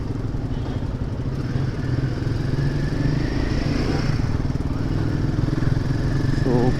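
A motorcycle on a test ride, its engine droning steadily and loudly throughout with road and wind rumble, heard from on the bike.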